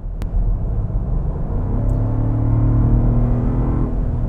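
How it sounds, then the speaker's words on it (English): A 2023 Land Rover Defender 110's supercharged V8 winds up under throttle, a loud close rumble with a rising whine building steadily over a few seconds. "You can just hear that supercharger wind up."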